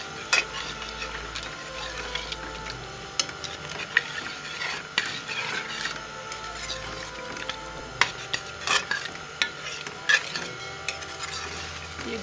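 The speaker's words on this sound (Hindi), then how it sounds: "ये बीफ की बुनाई हो रही है" Already-tenderised beef pieces being stir-fried bhuna-style in a karahi, with steady scraping and stirring clatter of a spoon against the pan over a low sizzle, close and continuous with no talk.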